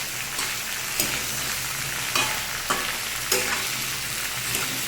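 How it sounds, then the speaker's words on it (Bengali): Water spinach stalks, pumpkin, potato and green chillies frying in a pan, a loud continuous sizzle with a handful of spaced stirring scrapes, close up. "এবার এটাকে ভালোভাবে নেড়ে চেড়ে মিশিয়ে দেবো।"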